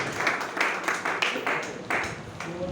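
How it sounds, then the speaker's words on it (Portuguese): A church congregation at a vigil in Pedra de Guaratiba claps to welcome the pastor, a fairly faint patter of scattered hand claps with rhythmic swells, heard in a reverberant room. "Vamos receber nosso pastor com bastante palmas e glória."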